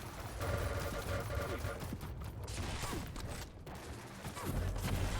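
Rapid machine gun fire in the arena shooter Quake Champions during a competitive match, a dense sustained rattle over game noise with a couple of brief gaps.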